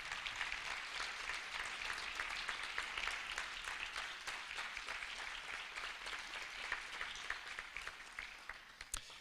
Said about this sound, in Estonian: Aplaus veel kord.